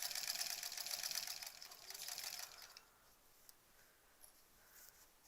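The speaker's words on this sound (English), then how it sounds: "listen to it ker-chunk through all that stuff" A sewing machine stitches through thick quilt layers, giving a steady rapid mechanical whir that runs for about three seconds and then stops, leaving faint room noise.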